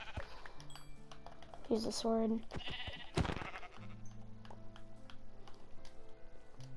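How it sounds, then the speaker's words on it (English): Sheep bleating in Minecraft, several wavering blocky bleats rising over a soft game backdrop with tonal chimes, while someone talks over them. "Oh, sheep."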